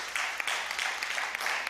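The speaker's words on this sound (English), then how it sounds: "Clap your hands and give God a praise" Church congregation clapping hands in praise, dense continuous applause with overlapping claps filling the room, steady and moderately loud throughout.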